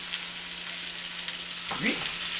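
Food sizzling steadily in a hot pan, cooked three to four minutes a side for an egg brunch dish, with a louder burst of frying as it is flipped near the end; no speech.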